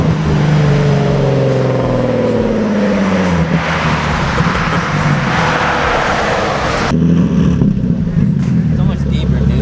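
A Nissan 370Z with a Tomei titanium exhaust growls deep and loud, its revs sweeping up and easing down under road noise, before a sudden drop to a lower, steadier drone near the end.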